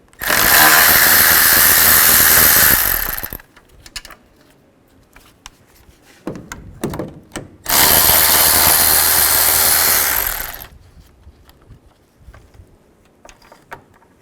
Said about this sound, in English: Take this bolt off here, and there's one right here. Use a 10mm socket.